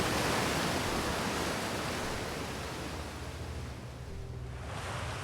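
Clear water in the Outer Wilds video game, a steady broadband wash like surf or rushing flow, loud at first and easing slightly, with no voices over it.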